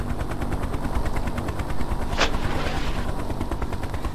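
Enemy ground fire in a Hind helicopter simulator game, a rapid, continuous rattle of machine-gun bursts over the steady thump of rotor blades, loud and close, with one sharper crack partway through.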